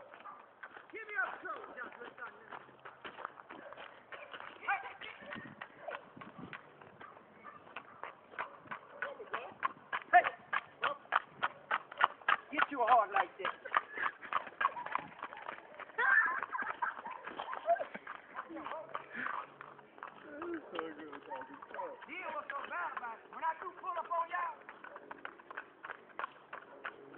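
A horse being ridden, its hooves clip-clopping in a fast steady rhythm that grows more distinct midway, heard under frequent talking, with the sound band-limited as if recorded on a phone.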